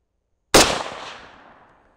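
A single sharp rifle report from a Chinese SKS fired at an 8-inch steel plate 100 yards away, loud and alone, with a decaying outdoor echo and no audible steel ring.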